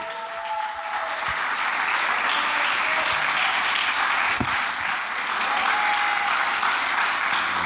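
A church congregation applauds together in a dense, sustained wash of clapping. It holds at an even, loud level for several seconds, with a faint tone drifting beneath it.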